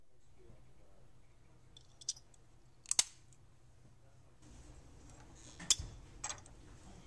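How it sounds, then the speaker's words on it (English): Anderson Powerpole connectors are slid together and pulled apart, giving a few faint, sharp plastic clicks spread over a quiet background. "To make a connection, simply slide the two power poles together. To detach, pull them apart."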